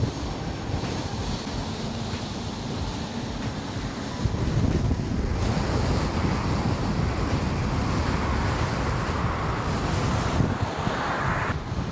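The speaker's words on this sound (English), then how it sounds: "It's so much wind that I jumped on the sidewalk." Strong sustained headwind of around 20 mph roars across the microphone of a KingSong 18XL electric unicycle while riding, loud and continuous, the gusting rush intensifying partway through.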